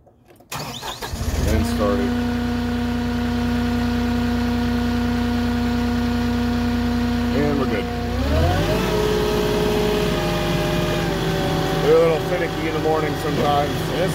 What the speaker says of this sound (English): When it's cold, you need to start it, click it over, let the glow plugs warm up.